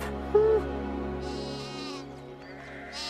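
Sheep bleat nearby in a pastoral setting, a few wavering, nasal calls overlapping one another, one brief sharper cry standing out early, with no voices present.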